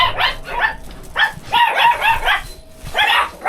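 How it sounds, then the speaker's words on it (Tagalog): Several dogs bark in quick bursts at a spot crowded with dogs, with high yips and barks coming in clusters, loud and close, with brief pauses between groups. "ang daming aso dito"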